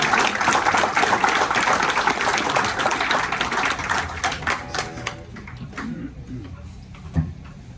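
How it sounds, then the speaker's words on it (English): Audience applause at a Rotary meeting in Coronado: dense, loud clapping that thins out into scattered claps and then dies away, with talk underneath toward the end. "Warm applause to Lou."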